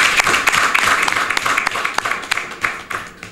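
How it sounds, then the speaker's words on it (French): An audience at a union election campaign launch applauds, dense rapid clapping from many hands, loud and sustained, tapering slightly toward the end. "il faut les applaudir"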